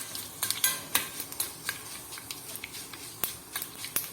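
Mustard seeds and dried red chilli being stirred in hot oil in a pan, with a spoon scraping and light crackling pops scattered through a soft sizzle, close and fairly quiet.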